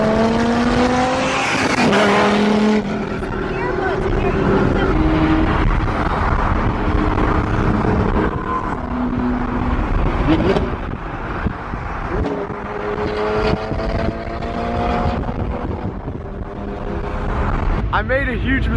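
Loud supercar engines at an exclusive luxury car event, including a one-of-one Pagani, revving and roaring repeatedly with rising and falling pitch, close and dominant, while people talk beneath the noise.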